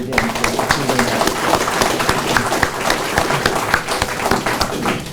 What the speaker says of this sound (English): that deserves a great round of applause again for achieving that